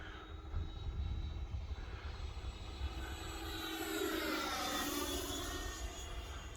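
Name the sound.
E-flite Viper 90mm RC jet flying at half throttle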